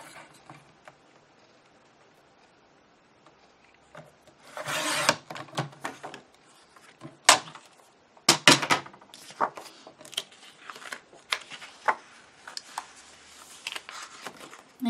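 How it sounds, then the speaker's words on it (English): Paper being trimmed for a 6 x 8 scrapbook page layout: quiet at first, then bursts of rasping, rubbing cuts and sharp ticks close by, coming in irregular clusters with no talking. "Trim a little bit off the top."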